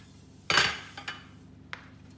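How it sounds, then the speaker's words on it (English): Lid lifted off a Thermomix, a loud clattering clank of plastic and metal followed by a softer knock and a brief light click, with nothing else in the quiet kitchen. "I'm now going to remove the lid"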